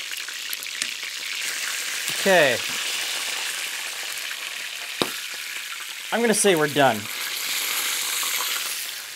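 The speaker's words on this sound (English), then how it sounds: "because I am shallow pan frying these, I'm going to keep turning them to make sure they cook evenly" Oil sizzles steadily as Scotch eggs shallow fry in a pan, with a person speaking briefly over the frying twice.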